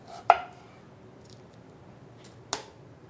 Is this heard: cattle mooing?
no